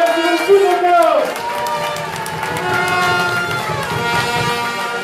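Carnival crowd in a hall applauding the newly presented carnival prince, a continuous wash of clapping and cheering mixed with brass-like music tones and an amplified voice speaking early on.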